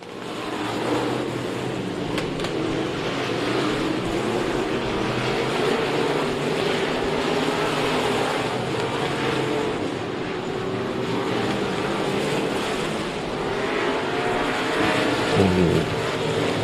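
Sprint cars circle Kennedale Speedway in a Texas Sprint Series race. Their engines make a steady, dense roar that stays loud the whole time, with no break between laps.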